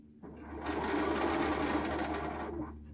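Sewing machine stitching continuously around a sleeve cuff, a steady close motor whir with rapid needle chatter that runs for nearly three seconds.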